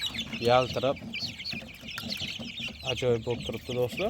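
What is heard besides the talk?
chicks clucking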